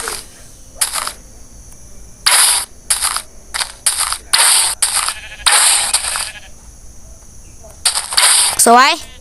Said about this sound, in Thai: เดี๋ยวผมซอยแกะแป๊บ